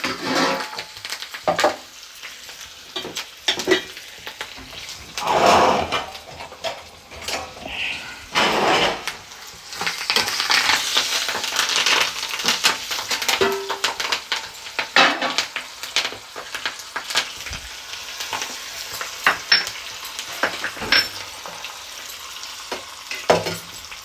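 Sesame seeds and curry leaves crackle and spatter in hot oil in a pan for puliyogare, a loud busy frying hiss with bursts of popping and spatula scraping, close and without speech.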